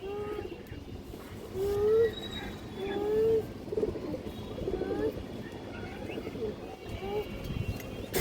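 Indian highflyer Kaldam pigeons cooing nearby, a series of soft rolling coos repeating every second or so, with someone talking over them and faint chirps in the background.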